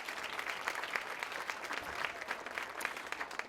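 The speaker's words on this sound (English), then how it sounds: "Can we give her another round of applause, please?" An audience gives a speaker another round of applause at a 2015 Black celebratory event: dense, even, continuous clapping from a full room that holds steady throughout, with no voices over it.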